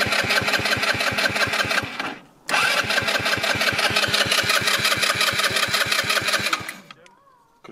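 A small scooter engine cranks over and over in a fast steady chug, pauses briefly, then cranks again for several seconds without catching, loud and close.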